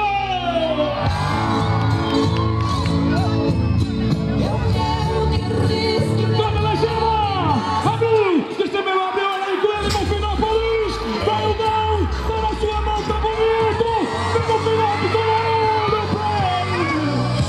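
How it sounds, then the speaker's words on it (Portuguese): Rodeo crowd at the 25th Expobom fair in Bonfinópolis, Minas Gerais, shouting, whooping and cheering loudly and continuously, with many overlapping voices and a brief dip midway. "quem gosta de rodeio dá um grito"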